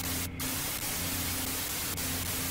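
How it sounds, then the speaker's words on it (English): Steady, loud hiss of white noise static in The Cat Lady video game fills the whole stretch, with a low hum underneath and a few brief clicks and crackles, and no voices. "Turn it off, it's just white noise."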